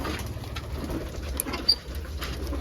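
Soft pigeon cooing murmurs low and steady, with faint rustling and a brief sharp chirp partway through.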